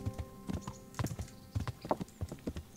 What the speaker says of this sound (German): dann galoppieren wir dahin